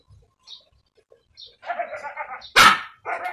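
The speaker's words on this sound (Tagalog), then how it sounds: "Maingay yung aso namin, yung maliit na aso." A small dog lets out a few short, sharp barks close by, with a quiet voice speaking in the gaps between them.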